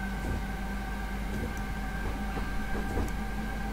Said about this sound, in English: Just let the train accelerate away from the station.